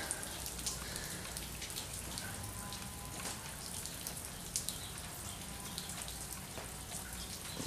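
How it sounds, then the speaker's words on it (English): Rain falls steadily at a storm-damaged, flooded industrial plant, a faint continuous patter and hiss of drops on surfaces with no other sounds standing out. "Can't go in there, it's raining."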